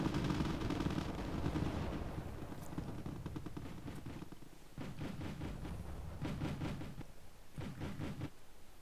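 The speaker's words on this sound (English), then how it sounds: "Is that short-range mortar fire? Yes, it is." Short-range mortar fire in a war video game, repeated heavy thumps and clustered bursts of gunfire over a rumbling battlefield, with a few sharp blasts toward the end.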